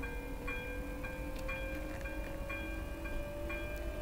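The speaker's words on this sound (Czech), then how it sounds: "se nám teď spustil signalizace na přejezdu" A railway level crossing warning bell rings in a trolleybus simulator game, with quick metallic dings repeating about twice a second over a low, steady vehicle hum and no talk.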